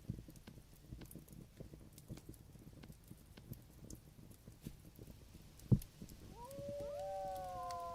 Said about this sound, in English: Ooh, I hear wolves outside.